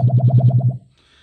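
A Sputnik Radio synthesizer's pulse output pulses out about seven quick, even tones in a bouncy rhythm, then cuts off into a faint hiss.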